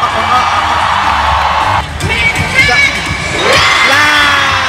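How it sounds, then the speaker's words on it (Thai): Large pageant audience screaming and cheering, a dense loud roar of shrieks and whoops with surges, while an announcer talks excitedly over the noise. "กระเทยร้องเลยกรี๊ดเลยค่ะ"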